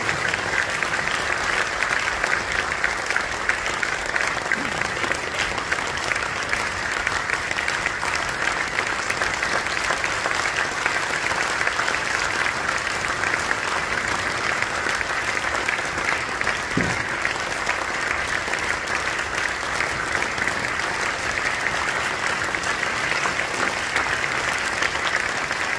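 Sustained applause fills a large church hall at an anniversary forum as a pastor is invited to the stage, an even, dense crowd clapping that continues for nearly half a minute.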